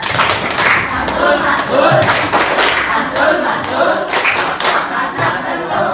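A group of students performs the Indonesian 'tepuk mantul' patterned clap, loud rhythmic bursts of hand claps and thuds mixed with chanting voices, close and busy throughout.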